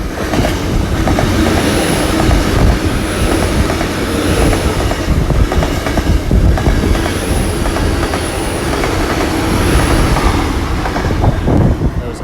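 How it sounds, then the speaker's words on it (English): A Great Western IET passenger train heading west toward Penzance or Plymouth passes through Exeter St Thomas station, with a loud, continuous rumble and clatter of wheels and faint high squeals. "there's another IET coming through now going to Penzance I believe"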